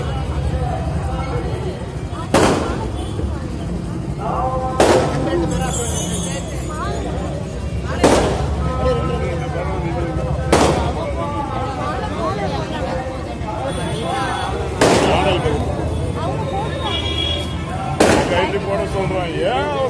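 Firecrackers burst repeatedly at a wedding, six or so sharp loud cracks spaced a few seconds apart over a busy crowd babble with people talking.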